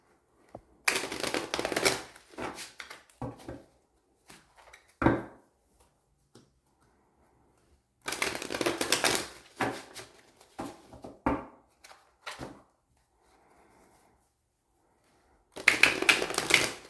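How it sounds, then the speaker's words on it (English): Cards are shuffled in three separate rounds of quick, crisp riffling and slapping, with near-silent pauses between them. "Two more shuffles."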